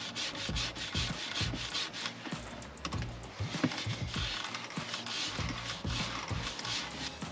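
A cloth rubbing grease off a Range Rover leather seat, producing a quiet, steady scrubbing and squeaking rhythm at close range, with no talking.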